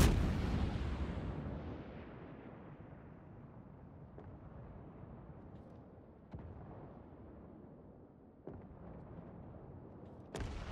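Naval gunfire from warships in the World of Warships game opens with a heavy booming blast that rolls away, followed by several distant sharp shots at intervals, with no voice over it.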